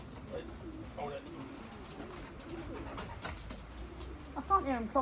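Racing pigeons coo at a loft during a young bird race, soft repeated coos with light fluttering, a whistle-like tone near the end, and talk mixed in.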